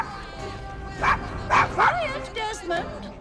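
Desmond the dog in Assassin's Creed Syndicate barks five times in short, uneven bursts, sharp and close, with a faint whine between them over quiet game background sounds.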